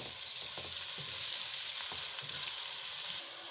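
Onions with cardamom and other whole spices fry in oil for a chicken bhuna masala, a steady close sizzling hiss with soft stirring scrapes underneath, fairly quiet and unbroken.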